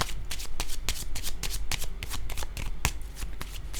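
A deck of tarot cards is shuffled briskly and loudly, with rapid riffling bursts and sharp slaps as the cards are laid down during a reading, with no talking.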